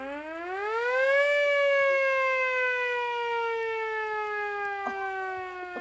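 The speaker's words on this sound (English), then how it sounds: "This is an old-fashioned siren, and it's off of a fire engine." A loud old-fashioned hand-cranked fire engine siren winds up to a high wail, then slowly sinks in pitch as it sustains, close and steady with no talking.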